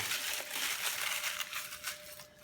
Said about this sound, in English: I'll peel off all the aluminum foil